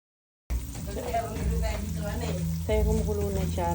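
Water spinach cooking in hot oil in a pan, a close, steady sizzle with a voice talking over it throughout.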